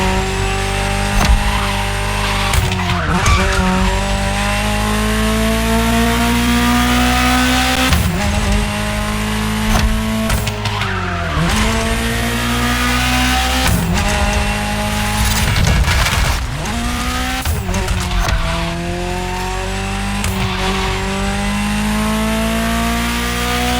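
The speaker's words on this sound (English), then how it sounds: "Just listen to the car you're driving." Ferrari supercar in The Crew Motorfest racing game, its engine loud and continuous with rising and falling revs, gear shifts and repeated tire squeals as it skids through corners, heard alone with no talk.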